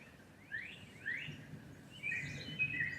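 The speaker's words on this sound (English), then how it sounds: "This common yellowthroat is taking a bath" A common yellowthroat bathing outdoors, with several faint, rising chirps and twittering calls spread across a soft background hum; no splashing is distinct.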